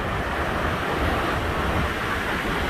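Takakkaw Falls in Yoho National Park pours down as a constant, broadband roar of rushing water and mist, heard steadily from close by along a hiking trail.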